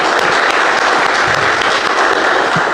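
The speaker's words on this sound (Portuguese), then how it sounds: "O Senhor Jesus, uma linda salva de palmas, amém?" Congregation at a church worship service applauding the Lord Jesus, a dense and loud steady round of clapping that fills the whole moment with no pauses.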